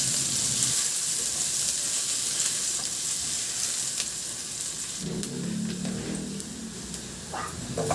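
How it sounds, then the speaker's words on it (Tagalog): Garlic sautéing in hot cooking oil in a pan for ginisang monggo, a steady, loud sizzle and crackle close by, with a stirring scrape and a brief surge of frying noise partway through. "Igisa ko na rin yung bawang."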